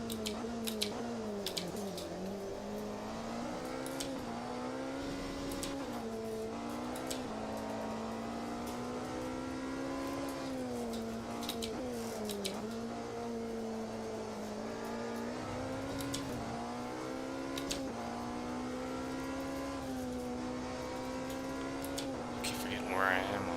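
Hypercar engine in a racing video game holds a steady, sustained drone with rising and falling pitch through the run, with a voice talking over it much of the time.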